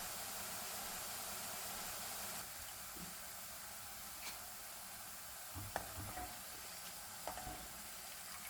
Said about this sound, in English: here we are mixing the bundi up so that it can be fully covered with the syrup